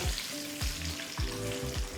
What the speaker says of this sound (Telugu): ఈ తాలింపు మాడిపోకుండా జాగ్రత్తగా వేపుకోండి